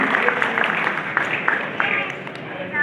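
Audience at a community committee meeting clapping to welcome a guest, a steady, moderately loud patter of hands from a mid-sized group, with no voices.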